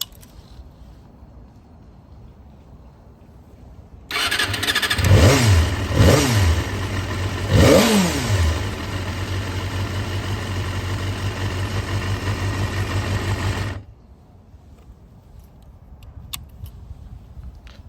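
A 1988 Honda CBR250R MC19 motorcycle engine starts abruptly, gives a few sharp revs, then settles into a steady, high-pitched idle for about ten seconds before cutting off. It is loud and close, with no talking.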